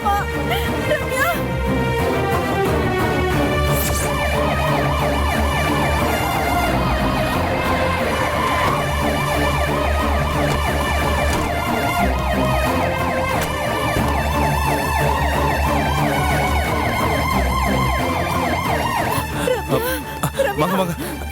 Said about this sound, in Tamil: ரம்யா, உடனே ஆம்புலன்ஸ்க்கு ஃபோன் பண்ணுப்பா, ஹாஸ்பிடலுக்கு தூக்கிட்டு போனோம்